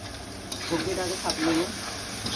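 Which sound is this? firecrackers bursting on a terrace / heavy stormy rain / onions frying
onions frying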